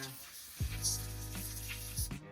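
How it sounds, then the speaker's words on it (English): A short hissing blast of air spraying, a steady burst of about a second and a half with a mechanical hum beneath. "So I'm just gonna spray it out with compressed air"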